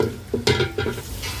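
Onions frying in oil in a pot after whole spices, a steady low sizzle with a few stirring scrapes and bursts, close and moderately loud, no talking.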